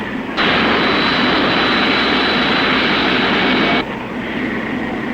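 Miss Supertest, a racing hydroplane in the 1960 Harmsworth Trophy race, roars past at full throttle, a loud, dense engine blast of about three seconds that swells in and then drops back to a distant rumble.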